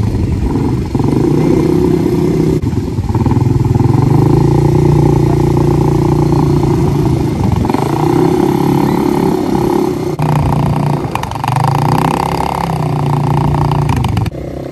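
A 200cc motorcycle ridden near a beach, its engine droning loudly and steadily with shifts in pitch as the rider changes speed.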